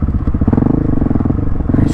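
A 2021 Husqvarna 701 Supermoto brakes hard, its engine loud and close with a throbbing, pulsing note that stays steady through the short burst.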